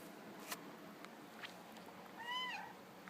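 A house cat gives one clear, close meow in the morning. It rises over a quiet room with a few soft taps and rustles and no one speaking.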